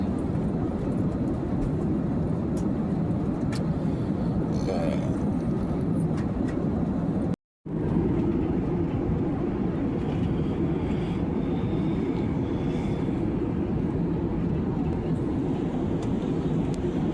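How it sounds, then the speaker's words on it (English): Steady, loud airliner cabin roar during flight, a broad constant rumble of engines and airflow that fills the whole stretch, broken only by one brief dropout partway through. "So, we are on the plane."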